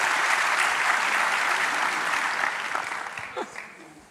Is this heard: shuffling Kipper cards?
no